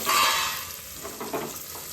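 Loud oily sizzling from stuffed drumsticks added to hot tempering oil, bursting at first and then settling into a steady crackle with faint stirring.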